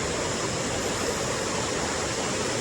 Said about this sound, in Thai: นี่คือบรรยากาศของน้ำตกชั้นที่หนึ่งนะคะ